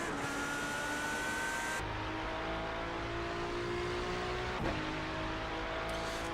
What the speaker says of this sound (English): If I press the throttle, I should gain speed.